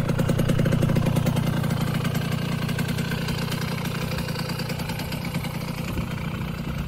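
A motorcycle engine idles steadily, with a low, even throbbing rumble that stays loud and close throughout, with no voices.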